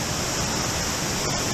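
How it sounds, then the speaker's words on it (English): A dense, steady roar of falling water from Dogwood Falls in the Richland Creek Wilderness fills the air, loud and close, with no pauses or other sounds standing out. "This is a gorgeous waterfall."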